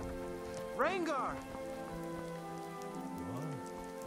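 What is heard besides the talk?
rain in a video game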